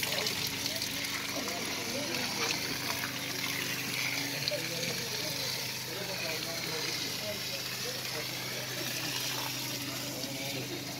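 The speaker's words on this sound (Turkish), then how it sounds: "Bu elektrikle çalışan su pompası." An electric water pump at a charity drinking-water well in South Turkestan sends out a steady, continuous rush of running water that stays fairly loud throughout, with someone speaking over it.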